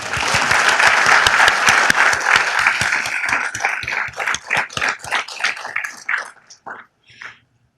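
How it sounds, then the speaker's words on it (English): Applause at a Downey city council meeting starts as a dense burst of many hands, then thins into scattered individual claps that taper off and stop near the end. "Let's give her a round of applause"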